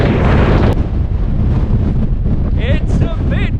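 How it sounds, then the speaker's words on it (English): Heavy wind buffets the microphone in a loud, continuous rumble on a Welsh hillside near Pen y Fan, with faint voices or bird calls briefly audible toward the end. "it's a bit windy."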